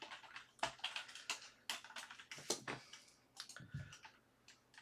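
Quick, light keystrokes on a computer keyboard, irregular bursts of close clicking taps with short pauses between them, heard alone in a quiet room.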